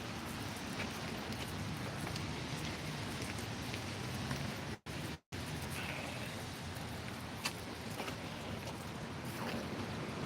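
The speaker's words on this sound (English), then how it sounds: "More rain, more rain," Steady rain falls on a surface as a dense, continuous hiss with scattered droplet ticks. It cuts out twice for a moment near the middle, and no voices are heard.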